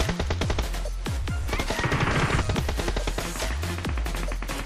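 Rapid random gunfire in the mobile battle-royale game BGMI, with dense, close, continuous bursts of shots in quick uneven rhythm throughout and no voices.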